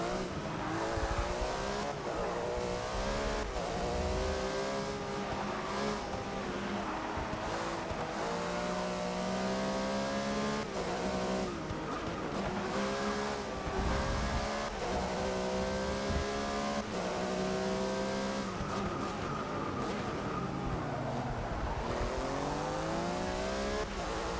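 Race cars circling a track in Forza 6, including a Porsche 911 GT3-RSR and a Bentley near the corkscrew, with engines revving up and down through repeated gear changes, loud and continuous, occasional tire squeal.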